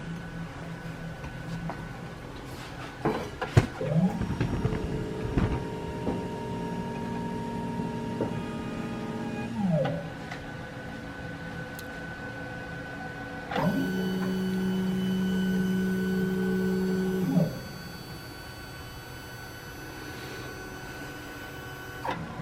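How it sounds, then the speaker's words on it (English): A GoccoPro QS200 label printer runs a four-lane line test, its motor whirring in two long sustained passes with clicks and pauses between them, steady and close with no talking. "it's printing the line test, and it will do it in 4 lanes because that's the maximum that the machine prints"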